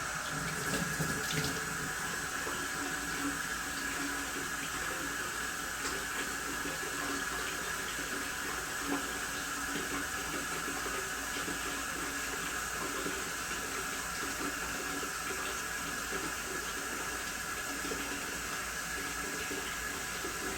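Tap water runs steadily at a sink while a small plastic scale model part is washed clean after scuffing, a continuous close hiss and splash lasting throughout with no talk.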